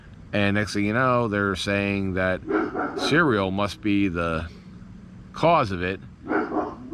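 A dog barks several times in the background, its yips and barks mixing with someone talking steadily close up.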